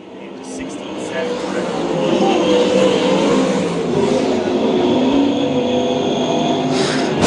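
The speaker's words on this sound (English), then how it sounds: "the white flag set to fly here for Chase Stockton in the 32 machine" USAC sprint cars roar around the Lakeside track on the final lap of a night race, a loud continuous engine drone with rising and falling passes, under a race announcer's steady commentary.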